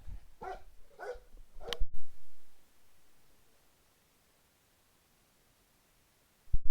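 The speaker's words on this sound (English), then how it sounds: "Sorry, my dog is losing her mind right now." A dog gives three sharp, excited barks in quick succession, loud and close. Near-silence follows, then a brief noise at the very end.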